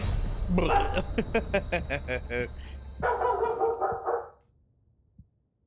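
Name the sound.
dog barking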